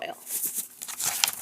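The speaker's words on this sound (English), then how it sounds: "you're going to take a piece of tin foil and you're going to crumple it up" A sheet of tin foil is crinkled and scrunched into a ball up close, giving a brief crackling rustle in quick irregular bursts.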